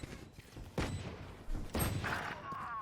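Gunfire in the tactical shooter Valorant, a few sharp broadband bursts cracking out among other game effects, moderately loud, with no talk over them.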